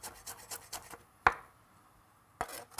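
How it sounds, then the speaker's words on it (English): Garlic cloves being bruised and chopped with a knife on a board: a quick series of soft chopping taps, then two sharp, louder knocks after a pause, close and with no talk. "Also, a few cloves of garlic, and I'll just bruise them and then finally chop them."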